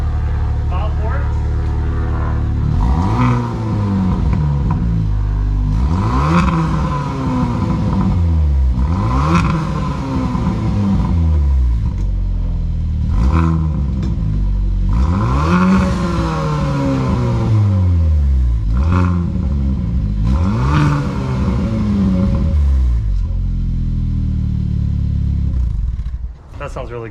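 A Hyundai Veloster N with an SXTH axle-back exhaust revs hard and repeatedly, with about seven rising-and-falling blips over a steady idle, loud and close throughout.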